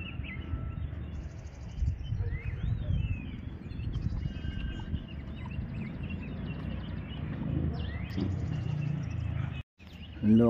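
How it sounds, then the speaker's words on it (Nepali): Birds chirp and sing in a village near Darjeeling, with scattered calls over a steady low outdoor rumble through the stretch. "सुन्नुहोस् है चराचुरुङ्गीहरूको आवाजहरू कस्तो कस्तो आउँछ"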